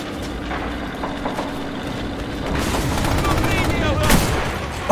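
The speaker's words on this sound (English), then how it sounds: "I didn't know it was gonna explode that hard." Explosives going off in Red Orchestra 2, a WWII shooter, with a heavy rumbling roar that builds and a sharp blast near the end, set among battlefield noise and rattling gunfire.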